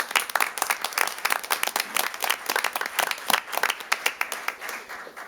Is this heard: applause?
yes